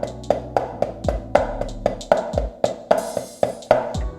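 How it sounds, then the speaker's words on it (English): Flat flam accent rudiment played on a drum practice pad, sharp stick taps landing in a steady rhythm about every quarter second, close and fairly loud, with low thuds underneath on some strokes. "The flat flam sounds like this."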